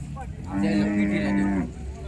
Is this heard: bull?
yes